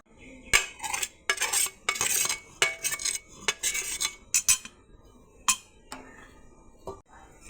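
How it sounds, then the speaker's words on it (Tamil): Chocolate chopped for adding to boiled milk, with a run of short, sharp knocks and clinks of a knife on a board, irregular and close, in bursts with brief pauses. "இன்னும் கொஞ்சம் சாக்லேட் போட்டுக்கலாம் சாப் பண்ணி"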